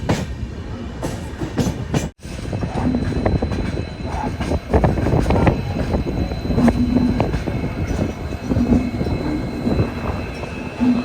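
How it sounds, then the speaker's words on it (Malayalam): A weekly express train rolls into Subrahmanya Road station in a forested area, with a loud, continuous rumble and rhythmic clatter of wheels, close and sustained, with no voices. "സുബ്രഹ്മണ്യ റോഡ് റെയിൽവേ സ്റ്റേഷനിലേക്ക് ഇതാ നമ്മുടെ ട്രെയിൻ എത്തിക്കൊണ്ടിരിക്കുകയാണ്"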